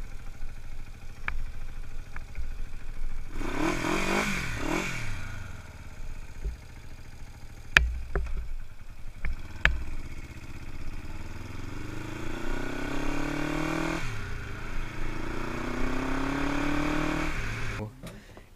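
An old 1970 Honda CB450 motorcycle engine sputters to life and settles into a rough, uneven idle, revving up and down with some clatter.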